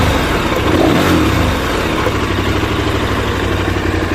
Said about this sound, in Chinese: 请大家听一下发动机声浪。